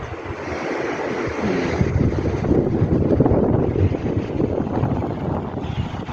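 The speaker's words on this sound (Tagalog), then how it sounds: "Kanina low tide. Ngayon high tide na." Sea waves wash continuously at White Beach in Basco, Batanes, at high tide, a broad steady surf roar mixed with wind buffeting the microphone, with no voices.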